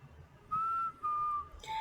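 Whistling from a song, a clear, bright melodic whistle in three held notes with short gaps between them, fairly faint over a soft low musical backdrop, with no talking.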